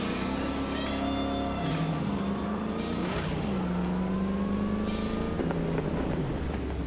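A car driving in the video game Cyberpunk 2077, a nippy model whose engine hums steadily and shifts pitch as it speeds up and eases off, a continuous moderate drone with no one talking.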